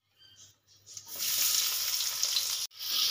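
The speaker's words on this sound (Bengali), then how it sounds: "এবারে দিয়ে দেবো কুচিয়ে রাখা পেঁয়াজ।" Chopped onions hit hot oil already seasoned with bay leaf and dried red chillies for country chicken curry, bursting into a loud, steady sizzle after a few quiet clinks, then cutting off briefly before resuming.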